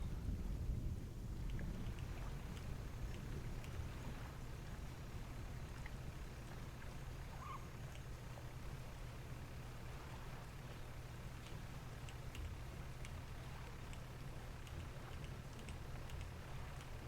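Fishing boat sailing in the video game Dredge: a steady low rumble of water and wind washing past the hull, continuous and moderately quiet with no voices.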